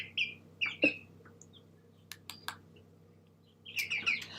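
High, thin chirps come in short bursts with quiet gaps between, close and fairly soft, sounding like small chicks peeping.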